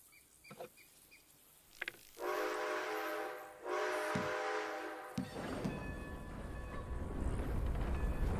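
A train arrives at a station in the video game Red Dead Redemption 2, a steam whistle sounding in long held blasts before the rumble and hiss of the engine build and swell near the end.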